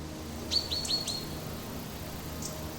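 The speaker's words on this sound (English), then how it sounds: "Birds singing overhead." Small birds calling in a lush green forest: a quick run of three or four bright, high chirps, then one more later, faint against quiet background hiss.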